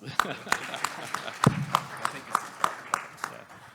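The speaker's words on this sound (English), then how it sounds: "Yeah, big applause." Sparse, evenly spaced hand claps ring out about three times a second in a conference hall as a panelist from a WiFi industry session is welcomed, fairly close and moderately loud, with no voices over them.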